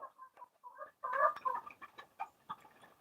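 A chicken clucks in a quick series of short, nasal calls, with a brief pause and then a busier burst of clucking, heard alone and moderately faint.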